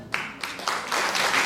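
Brief applause from a concert audience at a Lemko culture gathering in Gorzów Wielkopolski, a soft spatter of clapping that swells and thickens over a second and a half.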